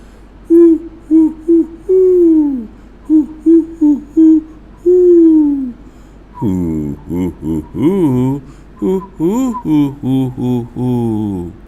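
Children's voices imitate an owl, hooting a poem in rhythmic sung phrases, first a single higher voice in short repeated hoots, then a louder group chanting together.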